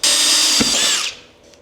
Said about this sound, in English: and now I'm gonna drill.